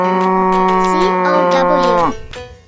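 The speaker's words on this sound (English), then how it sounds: "Can you help me find the cow?" A cow gives one long, loud moo with a rich droning tone, heard alone before it drops away abruptly at the end.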